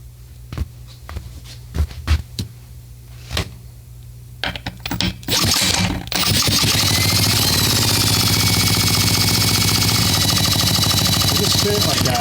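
A RedMax EBZ 5150 commercial blower's two-stroke engine is spun over with a tool, giving a few sharp bursts. It then settles into a loud, continuous mechanical roar close by.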